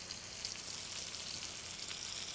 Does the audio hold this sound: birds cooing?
no